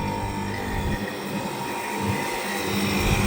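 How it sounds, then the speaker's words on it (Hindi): An air conditioner outdoor unit with its compressor and fan motor running, a dense continuous mechanical hum and whir with a steady tonal drone, close and unbroken throughout. "फैन मोटर चलने लगा, कंप्रेसर आपका ऑन हो चुका है।"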